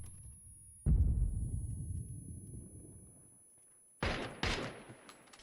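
Gunfire in the video game PUBG: one heavy shot with a long fading echo, then a pair of sharp cracks a few seconds later, with quiet gaps between.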